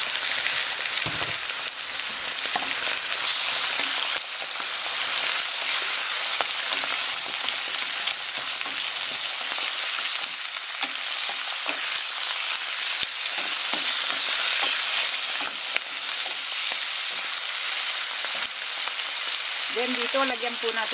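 Oysters sizzle steadily in a hot pan for adobo, a dense, continuous crackle with occasional stirring scrapes running throughout.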